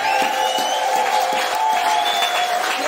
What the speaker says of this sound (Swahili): Yesu tumpigie makofi yake.